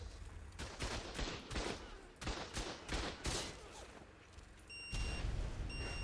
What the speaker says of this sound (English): I feel like there was another turret shooting me